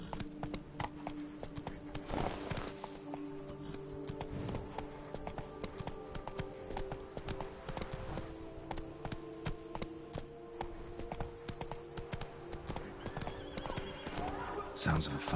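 Roach, the horse in The Witcher 3: Blood and Wine, gallops with fast, rhythmic hoofbeats and a whinny, under game music and brief spoken lines from characters.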